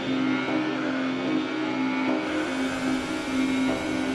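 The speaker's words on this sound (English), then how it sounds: "I'm here driving a lap of Paul Ricard at F1 2018" Haas F1 race car engine on a lap of Paul Ricard in the F1 2018 video game, a loud steady high-pitched whine that holds continuously with slight shifts in revs throughout, no voices over it.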